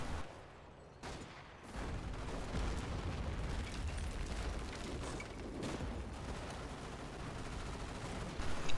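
MG42 machine guns in a World War II shooter, heard as sustained distant rattling bursts with scattered explosions, mid-level and continuous across the clip.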